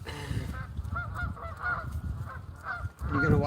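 Several geese honk in quick, overlapping bursts close by at a lakeside fishing spot, with a voice occasionally mixed in.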